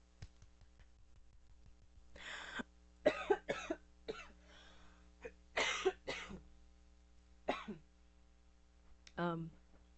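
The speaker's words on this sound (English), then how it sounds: "forgive me if my voice is a little scratchy or if I'm coughing a lot or making a lot of noises with my throat" A young woman with a scratchy voice gives several close, sharp coughs and throat clears, spread irregularly across a quiet indoor room with a low electrical hum, and a rattly clear comes at the end.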